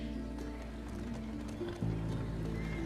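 Horse hooves clip-clopping in the video game The Last of Us Part II, a soft repetitive beat under a steady low game drone and hum, fairly quiet throughout.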